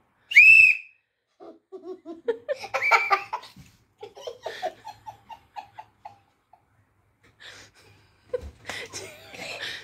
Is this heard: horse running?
no